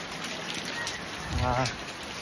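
Steady rain falls in a continuous soft hiss, with a voice briefly speaking under it midway.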